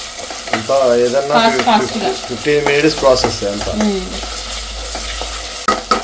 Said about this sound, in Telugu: ఇప్పుడైతే అల్లం వెల్లుల్లి పేస్ట్ కూడా మంచిగా ఫ్రై అయిపోయింది